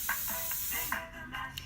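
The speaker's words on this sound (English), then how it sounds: "now I'm just gonna take Freeze It spray, and I'm gonna spray it against the cushion" Freeze It hairspray sprayed against a hair cushion while styling a beehive, giving a steady close hiss that runs through the short moment with a few brief puffs.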